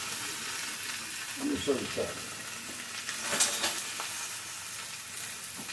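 A steak sears in a pan with a steady, close sizzle and spitting fat, a few bubbly pops and brief clatters over it, and no talk.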